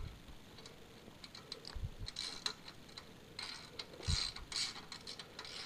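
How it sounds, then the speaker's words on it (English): Nuts being tightened on a cheap sheet metal bender, faint ticking and ratcheting clicks in short bursts, quiet and close. "Okay, so I tightened down those top nuts."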